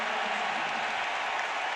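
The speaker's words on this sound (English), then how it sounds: "The crowd reacting with Kelly Olynyk" A basketball arena crowd applauds in a steady, dense wash of clapping and cheering that holds at an even level throughout.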